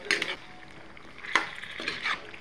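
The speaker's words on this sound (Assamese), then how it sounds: "তাৰপৰা আকৌ ঢাকি আকৌ এবাৰ ধুনীয়াকৈ লৰাই লওঁ।" A spoon stirring pumpkin and broiler chicken curry in a pot, with a few soft scraping and clinking strokes close by over a faint sizzle.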